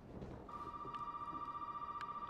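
In the video game Resident Evil 7, a telephone rings with a steady electronic tone that holds for about two seconds over a murky, rumbling background ambience.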